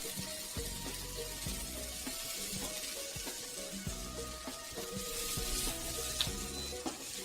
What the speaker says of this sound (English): we are going to saute it until it gets becomes slightly a little translucent.